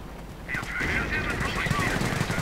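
Faint rattling machine-gun fire bursts from a WWII strategy video game, rapid clattering shots under a low background din.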